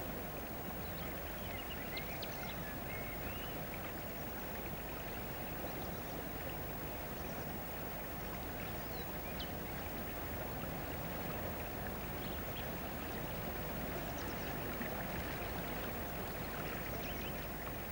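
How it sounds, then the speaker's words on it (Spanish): River stream in the upper Tajo flowing through a rocky gorge between rock walls and vegetation, a faint, steady broadband rush of water with no voices, even and unbroken throughout. "A medida que el río avanza entre paredes de roca y de vegetación, engrosa su curso con aguas de diverso origen"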